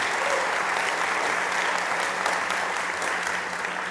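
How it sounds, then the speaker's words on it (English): Sustained audience applause fills a startup pitch-competition stage at a summit winner announcement, dense steady clapping from a large crowd throughout, with no speech over it. "Big applause to John."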